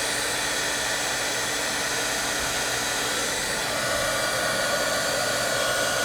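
A hair dryer blows steadily and loudly throughout, drying distress ink on an art journal page, a continuous broadband whoosh with no talk over it.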